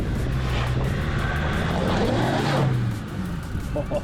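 A Land Rover Discovery 2 revs hard as its wheels spin on loose lumps of shell, a sustained engine drone with scrabbling tyre noise that eases toward the end.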